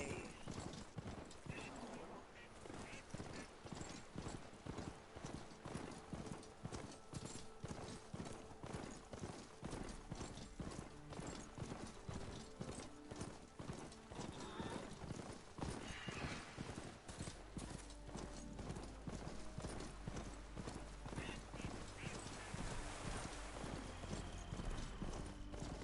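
Steady clip-clop of a horse's hooves in a video game, a fast even gallop rhythm that runs unbroken and close for the whole stretch, with no talk over it.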